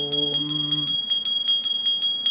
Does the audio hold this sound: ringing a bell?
yes